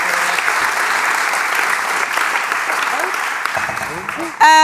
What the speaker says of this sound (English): With a big applause, I'm sorry.